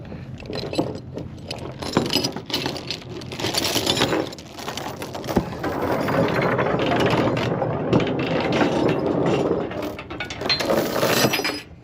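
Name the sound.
equipment trailer tilt bed mechanism operating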